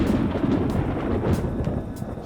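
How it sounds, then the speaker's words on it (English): A low, rolling rumble of thunder in the video game Persona 5 Royal on PS5 swells and fades, sustained and heavy, with no voices over it. "Whoa. It sounds like it's going to rain."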